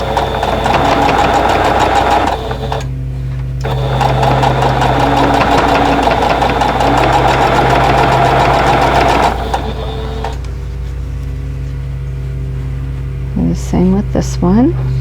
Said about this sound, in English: we're just going to sew these two units together.